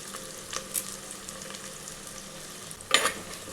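Onions sauté in a pan for mutton curry, a soft steady sizzle with a few brief spatters and stirring scrapes, one sharper burst near the end, quiet and close with no talking.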